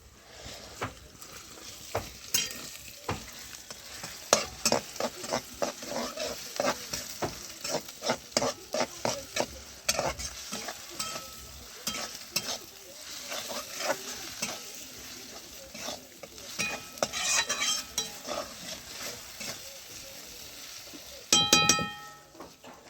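Garlic and ginger sizzling in a pan while being stirred, with repeated quick scraping and clinking strokes of a utensil against the metal over a steady frying hiss, close and fairly loud for the whole stretch.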